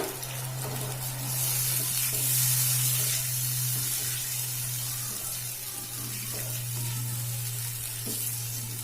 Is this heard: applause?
no